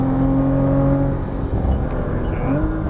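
A Porsche Cayman GTS engine pulls hard under heavy throttle, a loud, sustained drone with rising tones near the end, heard from close by.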